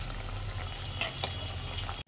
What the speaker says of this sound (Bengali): এগুলো ভেজে দেবো